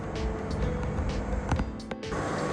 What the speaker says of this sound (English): So you can probably hear the fridge running in the background.